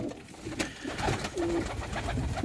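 Pigeons coo softly near a roost, low murmuring calls repeating over a constant background hiss, with a few light rustles and no talking.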